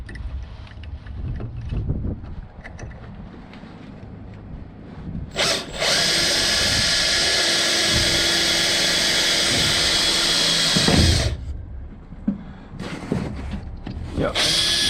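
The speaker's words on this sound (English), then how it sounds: "So I will start by a small hole, because I don't want to ruin the aluminum the other side." A power drill bores a small pilot hole through aluminum on a rotten camper, its loud, continuous high whine lasting about five seconds between quieter handling noises.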